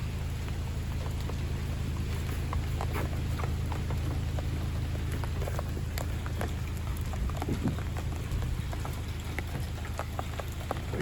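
Steady rain patters on a boat trailer's ramp outdoors while a small Sunfish sailboat is being moved, a continuous dense hiss with scattered close drip ticks throughout and no voices.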